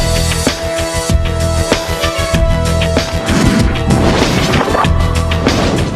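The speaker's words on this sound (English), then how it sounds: "the Federal Aviation Administration placed plastic explosive in a luggage container made of glare." A plastic explosive test blast inside a luggage container made of glare, a glass-based aircraft material, heard as a series of loud crashing, thudding impacts and booms over a dense, sustained rumble, with no voices.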